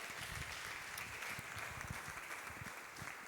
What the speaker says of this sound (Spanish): Así que un aplauso para el Señor